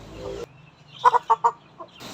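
A Black Australorp heritage chicken gives a few close, sharp clucks in a quick cluster, then one softer cluck, with quiet pauses between.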